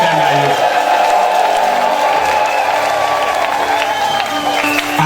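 Congregation clapping hands together at a church service, a steady dense wash of applause with some voices mixed in, loud and sustained throughout.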